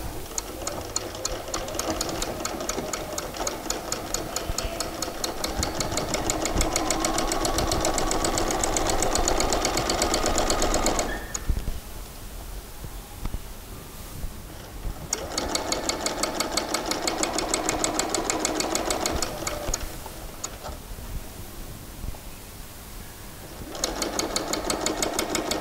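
A sewing machine edge stitches the fly front of a pair of shorts, running in steady fast bursts of rapid needle clatter, with short pauses between runs, close and alone.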